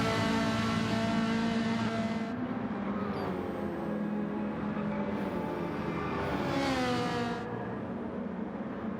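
A Ferrari race car in Gran Turismo 7 being short shifted, its engine droning loudly and steadily with rising and falling pitch through quick gear changes, continuous from start to finish without voices.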